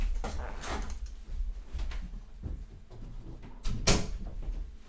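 A door being shut indoors, with a few knocks and bumps leading to a sharper thud near the end, set against quiet room noise.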